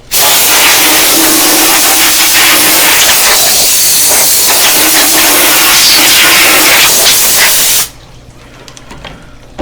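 A CNC machine bores a hole in Harley twin cam engine cases for a 124 CI build, giving a loud steady hissing, spraying roar for about eight seconds before cutting off abruptly to quiet.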